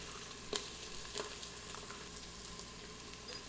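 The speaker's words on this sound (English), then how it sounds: "Sauté for a few minutes until they turn clear and start to get some brown edges." Chopped onions and tomato paste sauté in a pan with a quiet, steady sizzle, broken by a few soft stirring scrapes.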